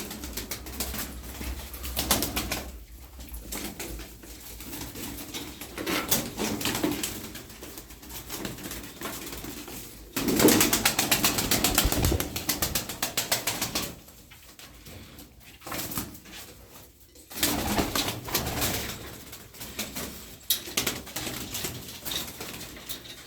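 Pigeons, among them a feather-footed female Arab pigeon, coo and shuffle close by, with bursts of wing flapping and rustling around 10–14 s and again near 18 s.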